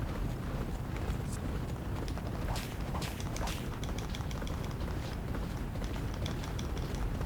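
Racehorse hooves gallop in Champion Jockey, a dense, rapid drumming over a loud, constant low rumble, with no talk.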